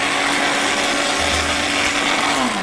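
Electric blender whirring through a homemade skin scrub mixture, a loud steady motor whine with a rough grinding texture, running continuously without a break.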